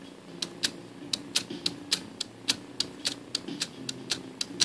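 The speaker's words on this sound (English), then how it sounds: "Hermes 2000 escapement" The escapement of a 1958 Hermes 2000 typewriter ticks in a steady run of sharp, quiet clicks, about three or four per second, close-up against faint room noise.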